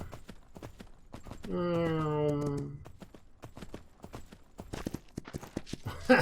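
Horse hooves clip-clop in rapid rhythmic steps in the Myth of Empires video game, with a brief whinny early on and someone talking over the hoofbeats.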